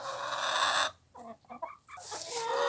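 Laying hens cluck close by in short, throaty bursts, with steady background noise before and after the clucks.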